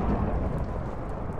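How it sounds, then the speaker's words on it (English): A deep, rolling thunder-like rumble from a modded lightning TNT strike in Minecraft, loud and sustained with a dense low roar throughout and no voices. "And now let's see what the lightning TNT is gonna do."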